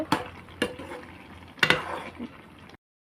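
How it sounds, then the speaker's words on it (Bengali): Dried shrimp curry with chopped ridge gourd stirred in a pan, with a few sharp spoon knocks and scrapes against the metal over a soft bubbling simmer, close, before abrupt silence. "এখন নাড়াচাড়া করে নিব।"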